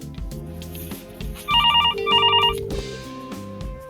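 A Mitel MiVoice business desk phone rings for an incoming call, giving two short trilling electronic bursts up close, over a low background hum.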